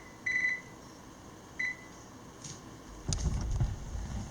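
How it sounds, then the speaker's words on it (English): Kitchen timer being set during home brewing of a peach kettle sour, two short high electronic beeps a second apart, followed by faint handling clatter and a low rumble. "Set this timer."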